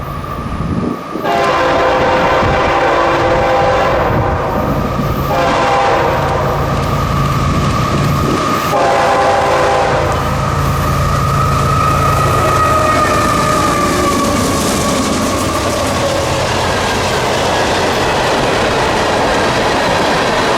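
CSX freight train K422 passing at Dial Hill, a loud close roar of rolling cars and locomotives with several long horn blasts in the first half, then continuous heavy rumble and squeal.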